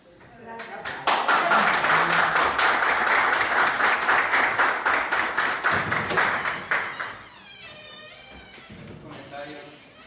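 Loud audience applause at a session of the Etzatlán, Jalisco town council fills most of the stretch, a dense wash of many hands clapping that swells and then fades, with voices and a brief shout near the end.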